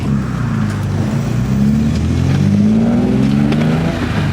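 BMW E30 with a swapped S54 engine and a 4.10 limited-slip differential accelerating on the road: a loud, steady engine drone heard from inside, rising in pitch through the revs, with no talk.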